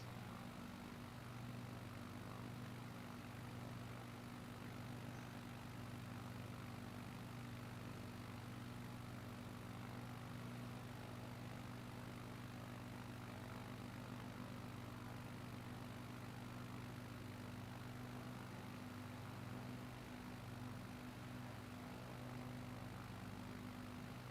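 A light propeller aircraft cruising in flight over Japan near Mount Fuji drones steadily for the whole stretch, a constant engine hum with a firm low tonal note under a broad, even airflow hiss.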